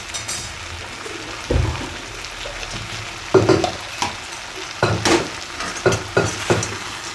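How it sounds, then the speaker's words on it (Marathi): Soybean chilli being stir-fried in a pan with chopped cabbage, a low background sizzle broken by several loud scraping and clattering stirring strokes that come close together toward the end, with no speech. "आता हे सर्व परतून घेऊया। त्यात आपण जो कोबी चिरून ठेवला आहे तो पण टाकून घ्यायचा आहे।"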